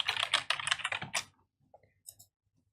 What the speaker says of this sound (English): You can type in the question